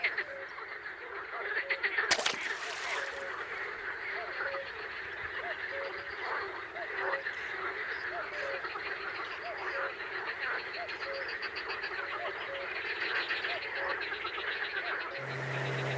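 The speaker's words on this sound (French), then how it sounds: "les grenouilles sont soudain beaucoup moins vivaces" Frogs croak in a steady, repetitive chorus at evening in the Danube Delta wetlands, close and continuous throughout, with a brief sharp noise early on.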